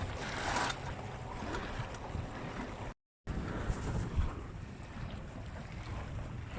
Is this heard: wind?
yes